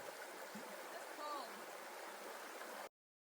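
A river rushes in a steady, broadband wash during a barefoot crossing in a thunderstorm, continuous and fairly close for about three seconds before stopping abruptly.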